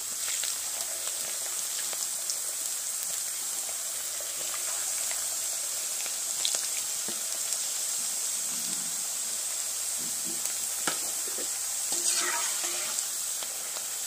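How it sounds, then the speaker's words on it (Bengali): Steady oil sizzling and bubbling as raw potato slices deep-fry over medium heat for chips, a constant hiss with occasional faint clinks, no talking. "এবার মিডিয়াম আঁচে আলুগুলোকে ভেজে নিতে হবে।"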